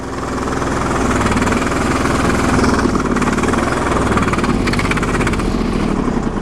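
A Briggs & Stratton 20HP V-twin engine on a Sears loader running on full choke, a loud, close, steady thrumming roar with a rough, knocking pulse throughout.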